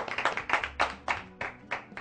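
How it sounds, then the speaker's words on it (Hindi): Audience clapping to welcome a poet at a New Year poetry gathering: a series of sharp, fairly close claps in an uneven rhythm, separate bursts rather than dense applause. "एक बार जोरदार तालियों के साथ"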